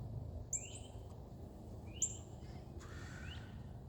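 Birds calling outdoors on a Sunday morning where pigeons are flown: a few brief, fairly faint high chirps spaced a second or more apart over a steady low outdoor rumble, with no talking.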